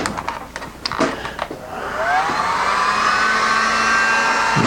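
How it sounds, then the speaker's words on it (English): A few sharp clicks and taps give way to a steady, loud hair dryer blowing with a constant whooshing hum, set super hot to heat a traffic name plate for etching. "This is where the hair dryer comes in."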